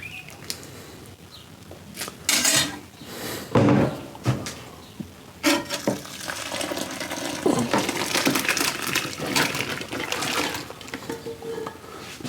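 Thick bourbon mash being stirred in a very full pot, with wet sloshing, scraping and knocking against the pot sides in irregular bursts that run fairly loud and close throughout.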